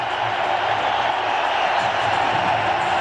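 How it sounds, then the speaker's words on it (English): A large crowd at a cricket match applauding and cheering, with India's captain reaching fifty, heard as a steady, dense wash of clapping that fills the whole moment without a break. "Acknowledging the applause of the dressing room and the crowd."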